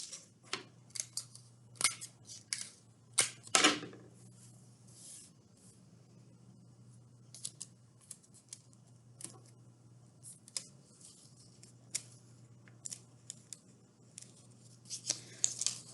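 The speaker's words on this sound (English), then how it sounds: "take a piece of tape, put it over the front of my strips, fold the edges around the back" Strips of paper streamer being taped for a paper kite: tape handling and paper rustling in a quiet room, with a series of short, crisp crackles and snips spread throughout, a cluster of louder ones early on.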